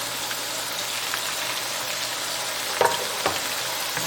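Onion and carrots frying with ginger, garlic and green chilies for Hawaiian fried rice, a steady close sizzle throughout with two brief utensil scrapes near the end.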